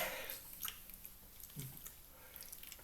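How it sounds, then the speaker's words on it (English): Exaggerated, wide-mouthed gum chewing during a vocal warmup, giving faint, wet smacking and squishing sounds at an irregular rhythm, close and quiet with no talking. "I do a giant gum chew, which is, imagine I have the most disgustingly large, juicy piece of gum in my mouth. And I'm chewing it."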